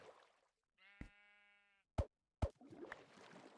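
Two short, close bleats from Minecraft sheep, each a brief quavering sound between quieter game noises, with a pair of sharp pops and a soft rustling bed following.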